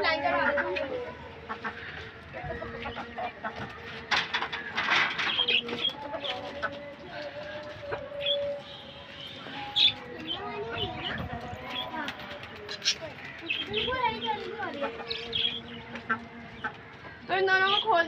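Chickens cluck and crow in a rural yard, with other bird calls mixed in. Voices talk over the fowl for much of the time, and the calls come and go throughout.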